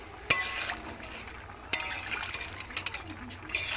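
Water poured into thick fish curry in a cooking pot, a soft liquid splash and trickle with a couple of sharp clinks of utensil on metal, close and fairly quiet.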